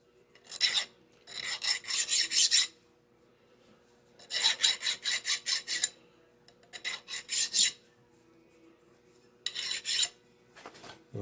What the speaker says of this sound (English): And we'll deburr it a little bit.